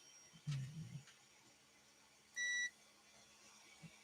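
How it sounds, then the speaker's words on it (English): A single short electronic beep, steady and high-pitched, sounds once against a quiet room background with a soft thump earlier. "Get the machine that goes beep."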